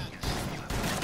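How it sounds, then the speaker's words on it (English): A shotgun blast in a video game, a loud broadband burst starting around a quarter second in, followed by a second heavy burst near the end amid busy game noise. "I shot her once and she shot me with a shotgun"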